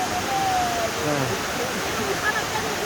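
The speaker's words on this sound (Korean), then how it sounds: "오늘 울릉도 동래 폭포 왔습니다." Bongnae Falls on Ulleungdo pours down in a steady, close rush of broadband water noise, with a faint voice and thin whistling tones drifting through.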